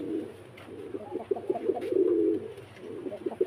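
Repeated throaty coos of a Koka pigeon, close and fairly loud, swelling into a longer rolling call midway before resuming in shorter bursts.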